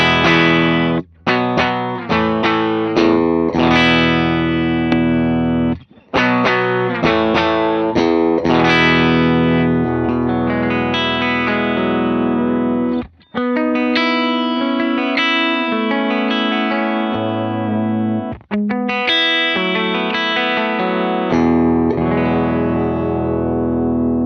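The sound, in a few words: electric guitar played through ToneX pedals with compressor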